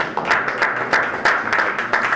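A small community roundtable audience claps briefly, with a short run of scattered, uneven hand claps at moderate loudness and no talking over them.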